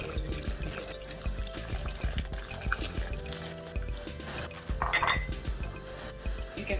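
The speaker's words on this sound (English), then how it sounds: "And then keep on stirring." Milk curdling with vinegar and lemon in a pot for Ghanaian wagashi cheese, stirred with a utensil that clinks and scrapes against the metal in irregular knocks, with wet sloshing and dripping and no talk.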